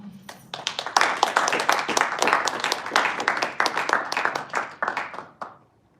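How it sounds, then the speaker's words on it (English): Applause from the audience at a Toastmasters meeting, many hands clapping together in a dense burst that holds for several seconds and then stops abruptly. "A big round of applause for Toastmaster Nena."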